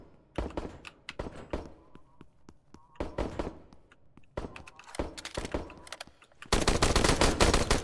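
Video game gunfire cracks out in sharp bursts, single shots and rapid volleys scattered through the stretch, ending in a sustained loud barrage; no voices.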